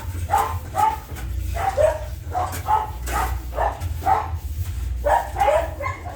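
Several dogs barking at a kennel extension of an animal rescue centre, a steady run of repeated barks and yips overlapping at mid distance over a low rumbling background.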